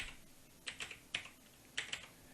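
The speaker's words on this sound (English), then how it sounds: "highlight this, and just start typing Chauvet" Several quick keystrokes on a computer keyboard, tapped in short bursts while entering text into lighting control software, close and fairly quiet with gaps between.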